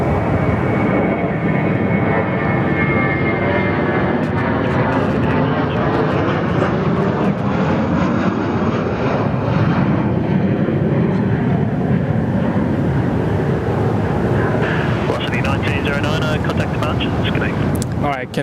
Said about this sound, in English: Another Virgin Australia A320 outbound from runway 21.